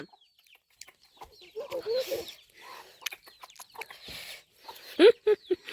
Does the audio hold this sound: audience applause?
no